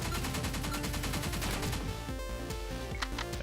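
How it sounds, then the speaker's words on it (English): Rapid gunfire from shooting enemies in the arcade shooter Pineapple Smash Crew, a fast stream of crisp repeated shots over a driving musical backing, steady and fairly loud. "while we shoot at them"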